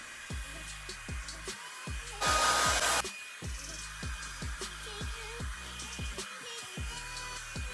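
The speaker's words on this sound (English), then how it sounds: "I will be here diffusing my hair for like the next 2 years." A hair dryer blows and diffuses curly hair in one loud, steady rush of air that lasts under a second, set against a rhythmic, pulsing background sound.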